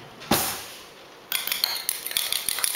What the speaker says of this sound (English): And a fork again.